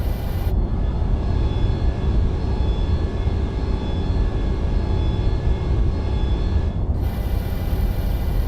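A Boeing 727 jet back-taxis along a runway in Microsoft Flight Simulator 2020, its engines holding a loud, constant roar with a thin steady whine above it, and no voices.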